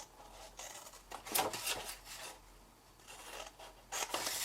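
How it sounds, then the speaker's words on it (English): Scissors snip through paper while a folded gift bag is cut straight up along marked lines, several short crisp cuts separated by pauses, close and fairly quiet. "And then cut straight up those lines."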